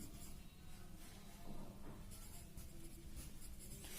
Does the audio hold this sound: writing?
yes